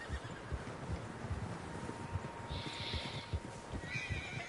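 Horses whinny and neigh over a steady rumble of many hooves in the video game Red Dead, with a breezy outdoor backdrop.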